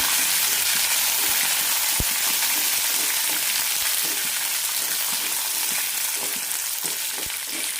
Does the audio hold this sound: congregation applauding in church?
no